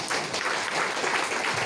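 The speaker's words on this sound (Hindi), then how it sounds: "मैं चाहूँगा कि आप लोग तालियां बजाएं एक बार" Brief, steady applause from an audience at an MSME awareness event in Patna, a soft, even patter of many hands clapping at a moderate distance.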